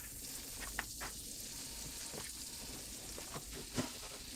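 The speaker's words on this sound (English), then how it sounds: "So we got a couple tablespoons of butter in our pan. We're just using a little tiny pan. And we're going to soften up some onions." Chopped onions softening in a couple tablespoons of butter in a small pan, a quiet steady sizzle with a few soft stirring scrapes, close but faint, and no talking.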